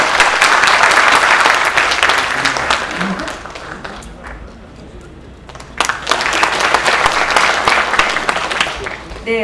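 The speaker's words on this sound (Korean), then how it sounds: "큰 박수로 부탁드립니다." Loud crowd applause with dense clapping at a Korean political rally fades into a quieter lull, then surges again near the end as the audience claps harder.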